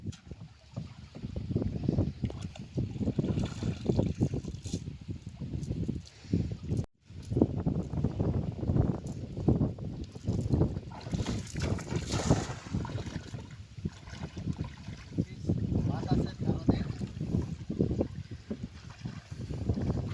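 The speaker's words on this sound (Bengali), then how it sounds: "বাতাস বইছে" Strong wind buffets a fishing boat on the Ganges river, roaring and rumbling continuously against the microphone in gusty surges, with one brief momentary drop partway through.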